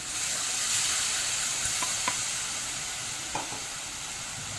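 Onion, garlic, ginger and tomato puree frying in oil for pav bhaji, giving a soft, continuous sizzle and hiss with a few sharp taps of a spoon against the pan.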